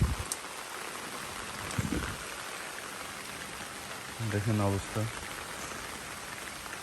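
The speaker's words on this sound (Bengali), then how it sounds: "অনবরত বৃষ্টি হইতেছে আজকে কয়েকদিন" Steady rain falls on a rooftop garden after several days of nonstop rain, a continuous even hiss throughout, with someone speaking briefly over it.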